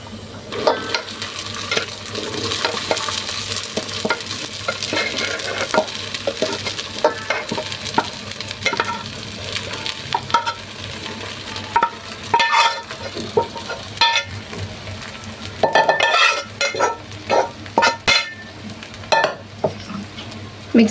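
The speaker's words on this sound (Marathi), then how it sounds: "आता आपण साबुदाणे घालून घेऊ. थोडं मिक्स करूया." Sabudana (sago pearls) stirred in a frying pan for farali misal, with a steady sizzle under repeated scraping strokes of a spoon against the pan, close and fairly loud, growing busier toward the end.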